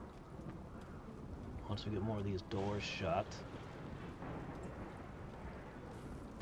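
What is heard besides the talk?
rain and thunder in video game RimWorld Odyssey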